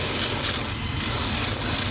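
The sole of a brand-new Tricker's Henry Chelsea boot is scoured in a continuous, close, rasping rub with short rhythmic strokes, loud and steady without talk.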